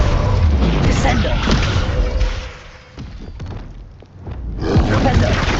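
A heavy spell impact from the Descendo spell slamming an enemy down in the video game Hogwarts Legacy, with deep thuds and booms amid dense, loud combat noise that briefly thins before surging again.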